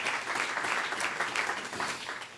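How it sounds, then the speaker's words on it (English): An audience at a TEDxNashville event in the Analog space gives a round of hand clapping, a dense, even patter of many hands at moderate distance, fading slightly toward the end. "Maybe a hand clap for the folks at Analog for putting that together."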